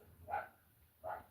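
Dogs at home giving two short barks spaced about a second apart, faint and somewhat distant.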